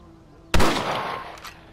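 A single sharp rifle shot from the video game Red Dead Redemption cracks out close and loud after a quiet moment, then rolls away in a long echoing decay with no other sounds.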